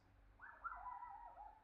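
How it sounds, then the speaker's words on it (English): An odd, cooing call from a dog that does not sound like a dog, one brief faint wavering note lasting about a second over a low background hum. "The weird thing is that he's a dog, but he doesn't sound like a dog."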